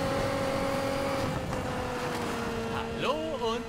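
Road traffic in Need for Speed Payback forms a steady, humming engine drone with tonal whine throughout a race. A voice comes in over it near the end.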